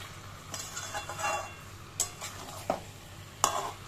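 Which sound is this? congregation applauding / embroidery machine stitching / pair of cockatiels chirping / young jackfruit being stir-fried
young jackfruit being stir-fried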